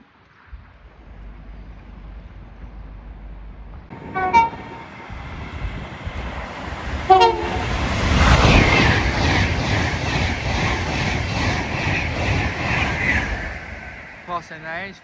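Class 390 electric unit 390122 on a London Euston service passes through Nuneaton, building from quiet into a loud, sustained rush with sharp horn blasts near the start and again at the end, a voice talking over it.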